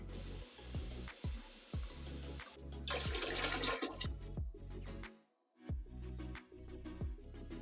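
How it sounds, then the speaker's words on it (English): Water from a gallon jug pours into a bin being filled for a vinegar bath to remove rust from cast iron, a steady splashing gush broken by short thuds and handling knocks, close and loud. "Alright, let's fill this up and add the last gallon of water."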